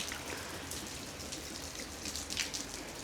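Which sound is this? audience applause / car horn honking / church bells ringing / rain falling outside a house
rain falling outside a house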